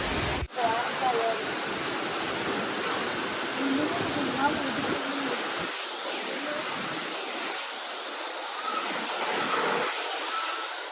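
A waterfall in Negros, surrounded by high mountains, roars as a steady, dense broadband rush that fills the whole clip, loud and continuous, with faint voices now and then underneath.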